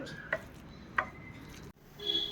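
Toasted, ground breadcrumbs are mixed into a hara bhara kabab mixture in a bowl, heard as two light clinks followed by soft, quiet scraping and stirring at close range.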